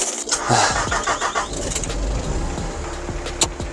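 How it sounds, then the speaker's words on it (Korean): An excavator diesel engine cranks and catches, then settles into a close, rough, steady idle with rattling knocks, loud and alone for a few seconds. "그럼 이제 한번 시동을 걸어 볼게요"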